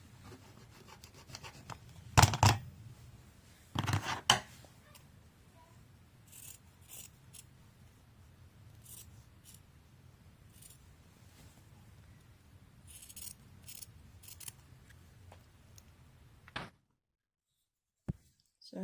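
Scissors cutting fabric for a sewn top, with a few crisp snips and scraping rubs, then a long stretch of quieter intermittent cutting and rustling, close and fairly faint.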